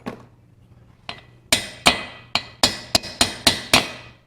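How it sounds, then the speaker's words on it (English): Sharp metallic hammer taps knocking a valve out of the cylinder head of a 1968 Porsche 912 1600cc engine, two isolated strikes followed by a quicker run of about eight ringing blows, close and loud. "let me see if I can tappy tap this valve out without doing any more, too much more damage to it"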